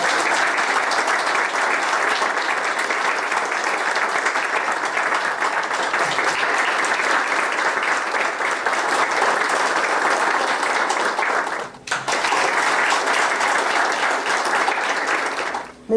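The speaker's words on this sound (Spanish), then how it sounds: "pido un fuerte aplauso." Loud, sustained applause from an audience at an awards ceremony for a folk art competition exhibition, steady dense clapping for about twelve seconds, a brief dip, then resuming.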